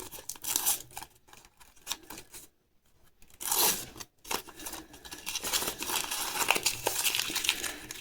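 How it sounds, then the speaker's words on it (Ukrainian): A paper surprise packet being torn and unwrapped up close, with crisp crinkling, rustling and tearing in bursts and a brief pause midway. "Без зайвих слів відкриваємо пакетик."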